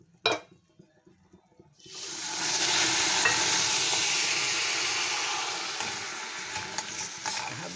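Sugar and water go into a hot kadai to make syrup for kathi goja, and a single clink is followed by a loud, broad sizzling hiss that rises quickly and then holds, easing slightly toward the end.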